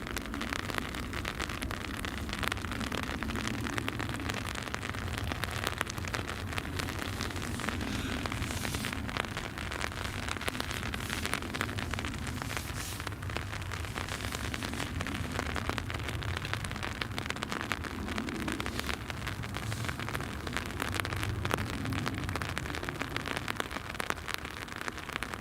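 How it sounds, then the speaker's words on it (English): Steady rain falls at Newcastle International Airport, a dense, continuous hiss and patter on surfaces that stays loud and even throughout, with no talking over it. "as you can probably hear and guess, the rain has started again"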